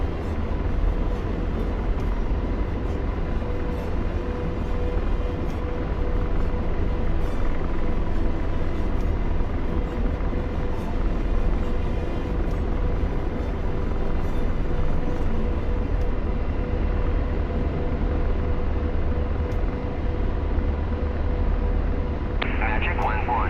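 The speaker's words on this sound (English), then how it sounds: "We'll have to turn the volume down on the Chinook again. Friggin' loud ass beast." A Chinook helicopter roars loud and close, a steady heavy rotor and engine drone filling the whole stretch without a break.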